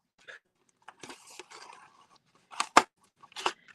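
Scissors cutting a sheet of shrink plastic, a series of short crisp snips and crackles close by, a few scattered and then louder cuts near the end, with quiet surroundings.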